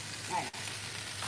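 Vegetables for chicken chow mein sizzle on a Blackstone flat top griddle, a steady, soft frying hiss running through the short moment with a brief dip partway and no talk over it.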